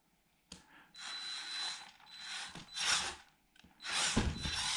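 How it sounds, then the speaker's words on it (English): The electronic speed controller of an FMS 1:12 Land Rover Series II RC car whines in bursts as the motor spins up and stops, a high buzzing tone starting and cutting out with short mechanical clicks between. "And the ESC is a little bit whining."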